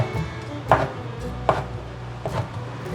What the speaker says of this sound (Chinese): 准备新鲜的2片豆包，把豆包切成粗条状